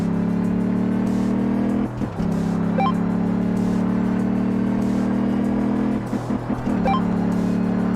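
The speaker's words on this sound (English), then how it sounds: "I completely bounce off the rev limiter yet again" Car engine in Car Mechanic Simulator 2015 revving hard and bouncing off the rev limiter, a loud steady high drone cut by short stuttering drops twice, near and without talk.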